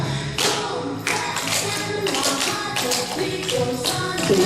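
Clogging dancers work through a boom clap step, their taps, stomps and claps striking in a quick, steady rhythm, loud and close over faint background music.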